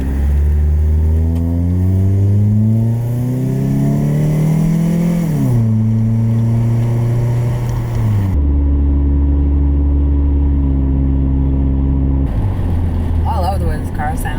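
A Toyota Camry engine rises and falls in pitch as it revs through gears while driving, loud and close, with steady engine drone throughout.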